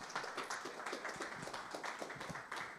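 A modest round of applause for a speaker at a business clinic event: scattered, fairly faint clapping from a small audience, with distinct individual claps standing out.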